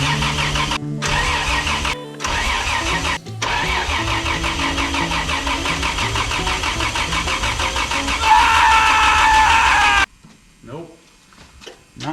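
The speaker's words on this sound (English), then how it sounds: "We're gonna go ahead and see if we can turn this over on gasoline and see if she'll run for a few seconds" A fuel-injected Toyota 3FE Land Cruiser engine fitted in an FJ cranks repeatedly on gasoline, the starter grinding loud and close in bursts broken by short pauses, without catching, then falling quiet near the end.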